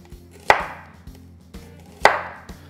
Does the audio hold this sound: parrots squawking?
no